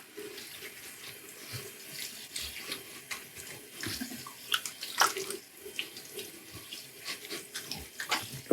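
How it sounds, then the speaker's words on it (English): Tap water runs steadily and splashes as alum is rinsed off a freshly wet-shaved face, with uneven bursts of spatter from hands moving through the stream; nobody talks. "I'm going to rinse off the alum."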